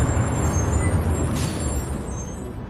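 A city bus pulls in amid steady low road rumble, its air brakes letting out a broad hiss partway through before the engine noise tapers off, heard alone without talk.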